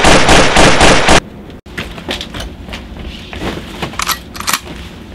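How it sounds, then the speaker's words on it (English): Loud rapid burst of gunshots at the start, then a sudden cut to quieter scattered clicks, clatter and a few sharp pops. "What the fuck is that shooting at?"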